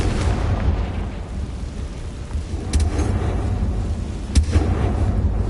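Explosive blasts from Bombarda and Confringo spells in a Harry Potter video game, sounding as a continuous rumbling barrage with a few sharper bursts standing out near the middle and end, fairly loud and dense throughout.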